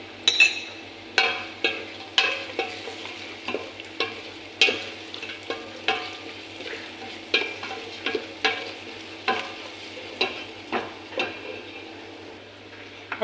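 A spoon stirs spice powders for chicken kabsa in a cooking pot, making rhythmic scraping knocks about once a second against the metal over a faint sizzle.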